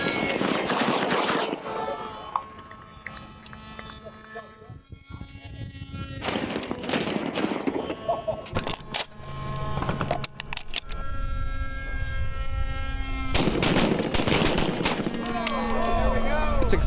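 Shotgun blasts at exploding targets outdoors, several loud bursts of gunfire and blasts spread across the stretch, with quieter gaps, ringing tones and people's voices between them.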